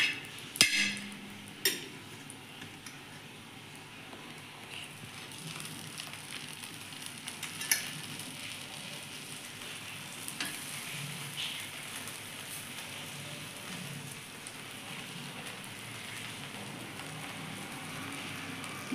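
Bread for a potato cheese sandwich toasting in ghee in a pan over very low heat gives a steady, soft sizzle and crackle throughout, with a couple of sharp clicks near the start.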